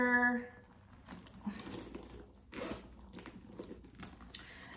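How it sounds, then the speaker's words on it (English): The zipper of a new handbag is opened up close: a few rapid, scratchy zips in short bursts, separated by brief pauses, with faint handling rustle and no talking. "the zipper."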